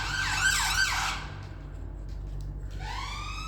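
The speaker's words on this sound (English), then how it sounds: "the sirens are part of London's delightful sound" Emergency vehicle sirens wail on a London street in Dalston, a loud sweeping siren fading after a second, then another rising wail starting up near the end over low traffic rumble.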